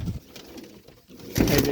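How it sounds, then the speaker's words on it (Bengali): Pigeons in a loft softly coo in low, rounded notes, with a louder burst of bird sound near the end and no talking. "আর এক জোড়া কবুতর আছে, এই যে"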